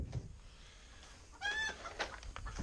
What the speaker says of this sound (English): We're going to have screaming chickens again